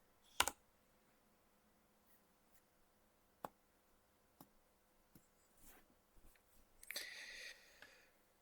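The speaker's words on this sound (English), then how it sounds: "I'm only typing with one hand, sorry." Sparse, irregular clicks from one-handed typing on a computer keyboard, quiet and close, with a brief busier flurry of keys near the end.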